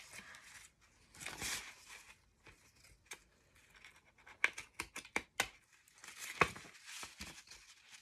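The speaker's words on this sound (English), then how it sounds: "So now I get a pair of scissors and I kind of just barely snip the corners." Scissors make a few faint, crisp snips as they trim the corners of paper for a craft ruffle, quiet clicks and papery rustles in a hushed room with no talk.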